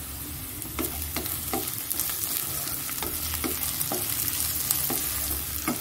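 Spices tempering in hot oil for sour dal, a steady close sizzle and crackle with regular stirring scrapes punctuating it every half second or so.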